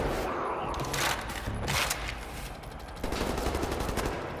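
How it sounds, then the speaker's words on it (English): Gunfire in the Wolfenstein: The New Order video game rattles in rapid, dense bursts, with repeated shots and machine-gun fire layered over a loud, noisy battle soundscape. "there's gunfire coming from that direction?"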